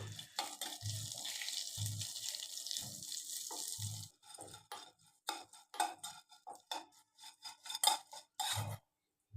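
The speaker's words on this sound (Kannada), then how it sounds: "ಇದು ಸ್ವಲ್ಪ ಕೆಂಪಾಗಾದ ಮೇಲೆ ಇದಕ್ಕೆ 1 ಕಪ್ನಷ್ಟು ಕರಿಬೇವಿನ ಸೊಪ್ಪು ಹಾಕ್ಕೊಂಡು ಫ್ರೈ ಮಾಡ್ಕೋಬೇಕು." Curry leaves and black peppercorns frying in a pan for a tambuli: a steady sizzling hiss for about four seconds, then a run of sharp clinks and scrapes of utensils against the pan, with no talking.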